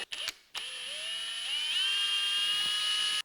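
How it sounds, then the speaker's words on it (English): A power drill runs at low speed, pre-drilling during an oil cooling system install: a steady, close whine whose pitch steps upward partway through, heard alone after a couple of brief knocks. "I'm just letting the drill do what it's doing. I'm having it very low."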